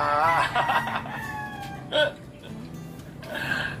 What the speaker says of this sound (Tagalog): Manok kuya.